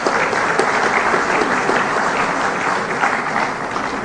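Sustained applause from an audience at a presidential speech in Makati fills the whole stretch: dense, steady clapping, close and loud, with no break.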